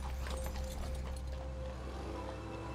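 Horses' hooves clip-clop steadily as the King's Troop rides out through the streets of St John's Wood with a mounted and motorcycle police escort, a constant near clatter of many hooves over a low traffic rumble.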